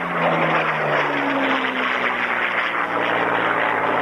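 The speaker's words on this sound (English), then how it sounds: "Beautiful photo opportunity on the 109 here, showing off the bottom and then the top of the aircraft" A Messerschmitt Bf 109 fighter flies at a classic jets and fighter airshow, giving a steady, loud engine roar with a slowly shifting drone throughout, and no voices.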